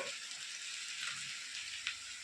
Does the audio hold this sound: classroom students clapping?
no